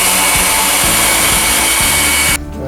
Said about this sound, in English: So I just blow some air in there. I just got a hair dryer.